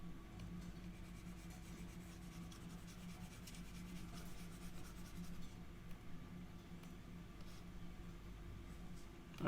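Writing on a board is erased with continuous close rubbing strokes, steady and moderately quiet for about nine seconds, with no voices.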